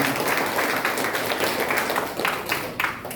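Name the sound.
congregation clapping hands in church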